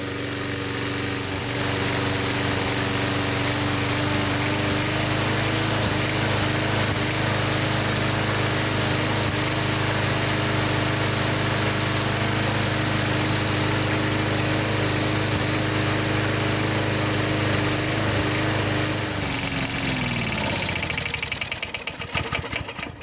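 A lawn mower engine runs steadily and loudly for about twenty seconds, its uneven idle gradually smoothing before it sputters and dies as the fuel runs out near the end.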